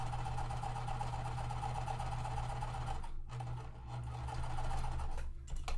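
Home sewing machine running steadily as it stitches small quilt block pieces with a quarter-inch seam, a continuous close hum that stops briefly twice near the end.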